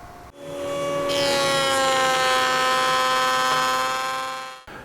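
Wood being fed through a router table cutting a raised panel, one continuous loud rising whine of the spinning bit lasting several seconds, close with no talk.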